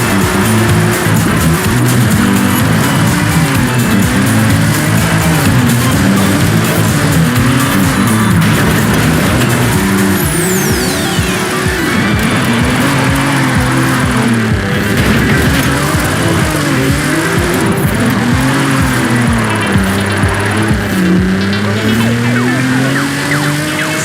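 Nissan GT-R drift build with a twin-turbo VR38DETT engine in Forza Horizon 5, roaring loud and continuous, revs rising and falling through shifts while tires squeal briefly in the middle.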